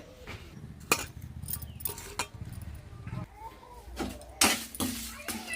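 Pulihora rice being stirred together with lemon water, salt and tempering in a vessel: scattered spoon-on-metal clinks and scraping knocks come at irregular moments, with a person talking throughout.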